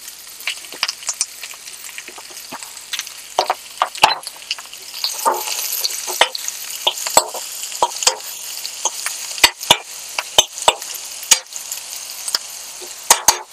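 Ridge gourd pieces fry in a pan for a tangy stew, with a soft, steady sizzle under irregular scrapes and clacks from a spoon stirring against the metal.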